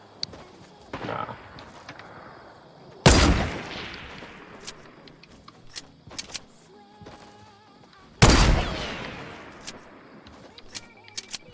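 Gunfire in the battle-royale video game Fortnite: two heavy, loud blasts several seconds apart with decaying tails, between them scattered short distant shots and clicks over quiet ambience, no talking.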